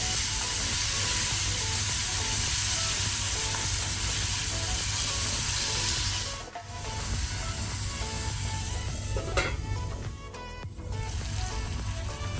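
Tomato frying with browned onions in a pan for a jackfruit seed and bhendi palya, a dense continuous sizzle that briefly drops and then carries on with stirring clatter, no talking.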